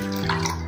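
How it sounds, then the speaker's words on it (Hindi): Water poured into dal in a cooking pot, a short close splash and gurgle lasting under a second, steady and moderately loud with no voices. "थोड़ा सा पानी और से डालेंगे"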